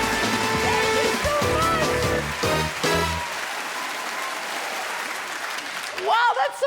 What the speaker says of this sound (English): Wow, that's some good applause.